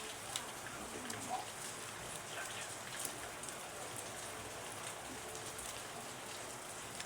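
Steady rain falling on a day after laundry is done, a dense, even hiss of drops on surfaces with occasional louder taps, continuous throughout with no voices.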